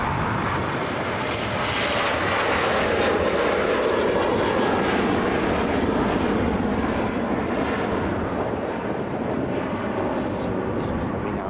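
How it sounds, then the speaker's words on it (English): Ryanair Boeing 737 jet at Dublin Airport, a loud, sustained engine roar that swells and holds steadily nearby, rumbling across the whole span. "This Ryanair Boeing 737 heading over to Genoa."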